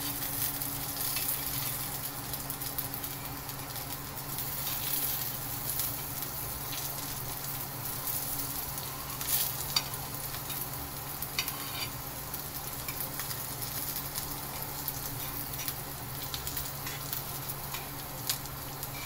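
Stuffed okra (bhindi) frying in a pan, a steady close sizzle and crackle with occasional light stirring and scraping as the pieces are turned, no talking.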